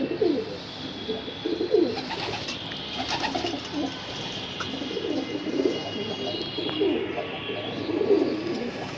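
Racing pigeons coo in repeated low, throaty phrases, several birds overlapping at close range, with faint chirps and background noise.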